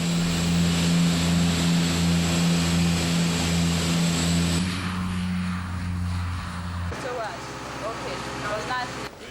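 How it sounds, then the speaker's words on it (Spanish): Small propeller planes at Praslin island airport in the Seychelles, one landing as another departs; a loud, steady droning engine roar with propeller hum fills the first half, then eases and changes as the aircraft moves off, with faint voices. "Apenas una avioneta aterriza, otra sale."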